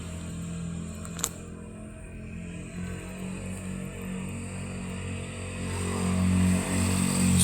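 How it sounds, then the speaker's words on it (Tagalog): Motorcycles passing by at night in Mindanao, a low engine drone that grows louder toward the end as a bike approaches, with a brief sharp click early on and no talk. "Meron pang mga dumadaan ng mga motor kung saan saan galing."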